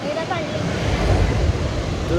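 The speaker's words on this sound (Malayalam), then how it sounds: "വെള്ളം പോകുന്നത് ലീക്കാണോ ലീക്കാണ് തോന്നുന്നു" Water gushes from a leak near a road, heard as a steady broadband rush that carries on throughout, with people talking over it.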